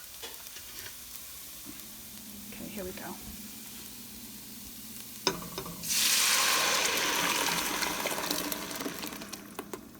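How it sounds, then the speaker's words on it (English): Homemade tomato marinara sauce poured into a hot pan bursts into loud sizzling that hisses on steadily, after a quiet stretch of faint kitchen clatter and a few short spoken words. "then you want to pour the sauce in"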